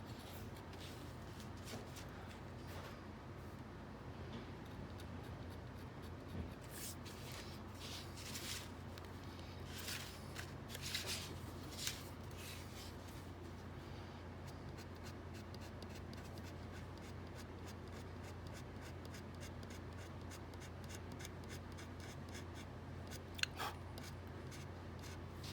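A tool scoops and scrapes across a scratchboard drawing in quiet, irregular strokes, with clusters of short scratchy bursts and pauses, close and faint over a low steady background hum.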